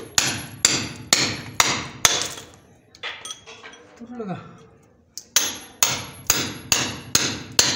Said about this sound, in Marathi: छेनी हातोड्यानं तोडावं लागेल.